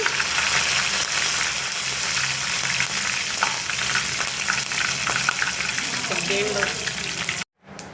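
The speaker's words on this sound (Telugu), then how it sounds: "1 ఎండుమిర్చి, 2 రెబ్బలు కరివేపాకు వేసుకొని ఇలా గంట మిక్స్ చేసుకోవాలి." Dried red chilli and curry leaves fry in oil for a potato kurma, giving a loud, continuous close-up sizzle with stirring scrapes that stops abruptly near the end.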